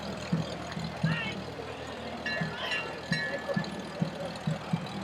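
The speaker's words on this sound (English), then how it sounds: "Pulling the Shad Mobile is none other than Mike Bernard and his Farmall H tractor." A Farmall H tractor pulls the Shad Mobile parade float, its engine chugging at a low idle with irregular thumps beneath nearby talking and crowd noise at a street parade.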